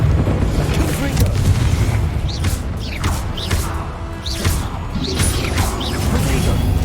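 Hogwarts Legacy spellcasting with the Confringo fire blast spell, repeated booming explosive bursts and crashes at irregular intervals over constant game noise, with a voice shouting spell names throughout.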